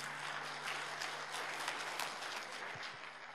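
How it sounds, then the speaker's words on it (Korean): Church congregation clapping during a Sunday worship service to encourage a youth speaker, a soft, steady spread of many hands with a low hum beneath, fading slightly at the end. "박수를 한번 크게 격려해 주시기 바랍니다."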